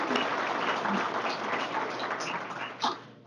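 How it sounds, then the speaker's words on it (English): An audience at a Law Day lunch claps for speakers, award winners and contest winners, a faint, distant-sounding wash of applause that thins slightly toward the end. "How about another round of applause for our speakers, our award winners, our contest winners,"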